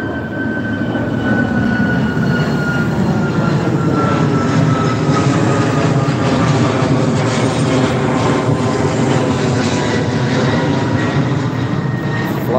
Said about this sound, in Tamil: பறக்கும் துபாய் பறந்து விட்டது.